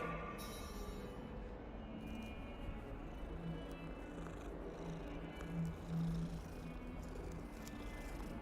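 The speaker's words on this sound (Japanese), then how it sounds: "あ、猫おるよ、猫。" A cat in the Hogwarts Legacy video game purring softly and continuously, faint and close, with a few brief louder swells near the end and no talk over it.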